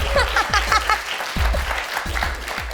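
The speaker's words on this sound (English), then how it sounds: "It's your man, you clap for him." Talk show studio audience keeps clapping for an arriving guest, a short burst of dense applause with rhythmic low thuds, loud and sustained.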